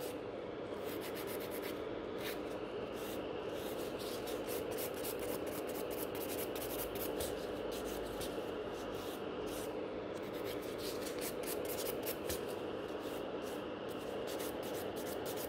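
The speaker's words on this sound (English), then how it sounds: "which I need to file, blend around the cuticle area" A nail file rasping over acrylic nails during shaping around the cuticle, fast rhythmic scratchy strokes repeating close up and continuously, with no talk.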